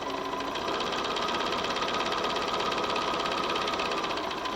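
A sewing machine stitches quilt pieces at a quarter-inch seam, running over pins left in place, with a continuous fast rhythmic whir and needle clatter at a steady moderate volume.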